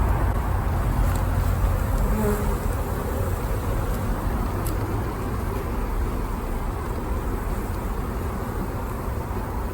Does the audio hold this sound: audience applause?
no